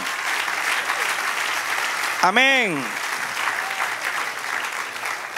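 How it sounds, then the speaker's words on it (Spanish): A church congregation claps steadily throughout in a continuous wash of applause, while a voice calls out briefly in the middle over the clapping. "Dale un aplauso al Señor."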